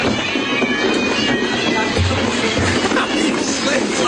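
A dense, constant chorus of about 130 cats in one home meowing and yowling at once, loud and overlapping with no pause.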